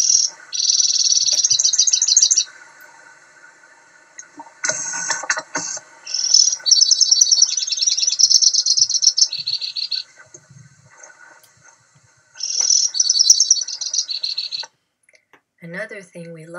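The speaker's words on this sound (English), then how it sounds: "here's another male white-winged crossbill singing" A male white-winged crossbill sings in winter in northern Ontario, loud and close: bursts of rapid high trills and chattering notes in several long phrases separated by short pauses.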